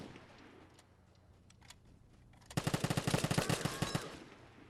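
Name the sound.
gunfire from the video game Vigor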